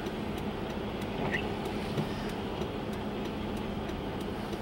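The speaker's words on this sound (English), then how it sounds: "And a lot of traffic." Road traffic in Canada: a steady, moderately loud wash of cars passing nearby, with a continuous rumble and no distinct single vehicle standing out.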